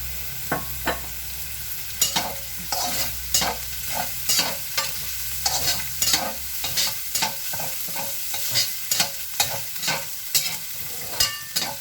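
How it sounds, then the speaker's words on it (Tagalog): Minced pork frying in a little oil for a Korean rice cake dish, a steady close sizzle broken by frequent sharp clicks and scrapes of a utensil stirring the pan, no voices. "fry lang natin itong minced pork hanggang mag-little brown"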